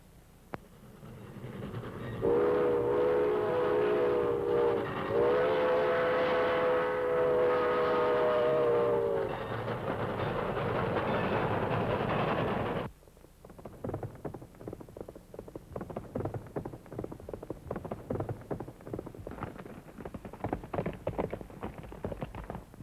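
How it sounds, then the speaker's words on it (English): A train horn blasts repeatedly over a loud rumbling freight train, then the horn stops and the wagons keep clattering past with rhythmic clanks. "I'm going to bulldog that freight train when it comes through town tonight."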